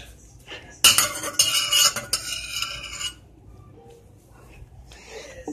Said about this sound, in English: Oh, now it's stirring time!